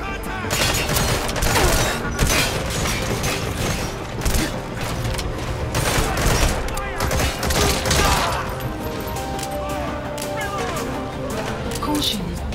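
Gunfire in Metal Gear Solid 5 during a platform battle, dense bursts of rapid shots and booms layered with mechanical clatter, with voices talking over the fighting.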